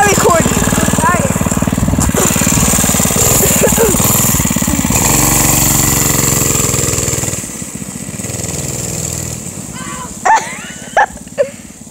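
A small mini bike engine runs with a loud, buzzy drone close by, then drops to a softer idle partway through, with a few sharp barks near the end.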